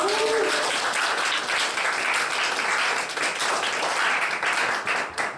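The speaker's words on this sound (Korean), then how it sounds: "우리 황지연 자매 우리 앞으로 나올 때 큰 박수로 한번 맞이해 주시기 바랍니다." Loud applause from a church young-adults worship congregation welcoming a young woman forward to give her testimony, steady dense clapping filling the room throughout.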